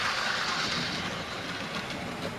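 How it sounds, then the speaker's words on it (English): A model railway train runs along the track of a loft layout, giving a steady quiet rolling rumble and faint rail clatter throughout, with no voices. "Right, got some more trains running."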